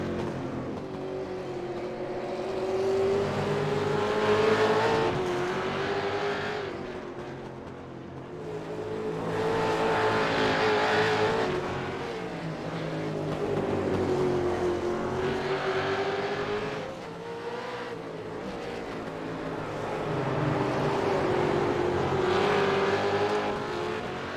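V8 race cars at Oran Park circuit roar continuously, engine notes rising and falling through repeated acceleration and gear changes. The sound is loud and sustained, with no voices over it.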